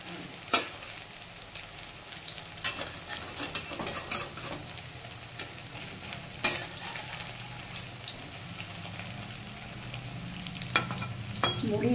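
Capsicum pakoras deep-frying in hot oil: a steady close sizzle broken by scattered sharp pops and crackles that swell now and then, with no voices.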